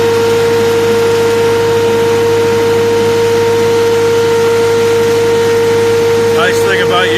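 A skid steer engine hums in a steady, loud, close drone while pulling a bale during baler clean-up, with a brief fluttering noise near the end.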